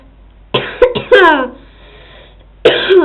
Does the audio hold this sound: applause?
no